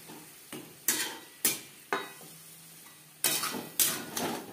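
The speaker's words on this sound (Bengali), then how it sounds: "পেঁয়াজের সাথে মাছ বেশ ভালো করে মিক্সড করে দেব।" A utensil stirs fish and onions in a hot pan in several sharp scraping strokes, with soft frying sizzle between them and no talk.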